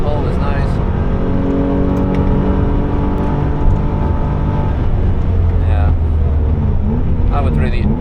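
Porsche 996 engine on the Nürburgring, a steady loud drone with harmonic bands shifting in pitch as revs drop through a downshift, with a voice talking over it.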